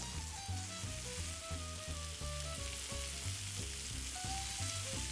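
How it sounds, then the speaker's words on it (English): Meat medallions searing on their sides in a hot pan, a steady soft sizzle with faint turning sounds, under quiet background music. "Sear the sides."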